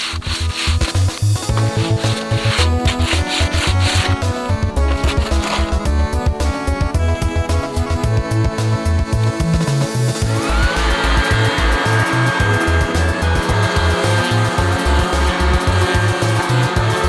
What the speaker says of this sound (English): now I've got some coarse grit sandpaper that I'm going to go over with it first